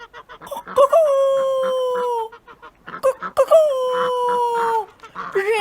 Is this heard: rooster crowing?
yes